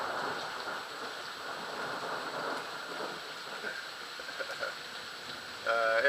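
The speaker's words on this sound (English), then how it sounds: "Anyway, it's raining. It's a gully washer." Heavy rain pounds steadily on a moving car during a storm, a dense continuous wash of noise with no voices, and a brief tonal sound rises near the end.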